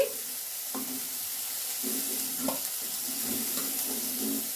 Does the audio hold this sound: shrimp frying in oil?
yes